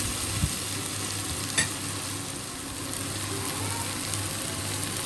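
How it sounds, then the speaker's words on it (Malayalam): Elephant foot yam (suran) stir fry frying over a high flame, a steady loud sizzle throughout with a couple of brief scraping stirs, close and alone. "ഹൈ ഫ്ലെയിമിൽ തന്നെ വെച്ച് ഫ്രൈ ചെയ്യണം, അല്ലെങ്കിൽ ഉടനെ പോകും. ഇടയ്ക്കിടയ്ക്ക് ഇളക്കി കൊടുത്താൽ മതി."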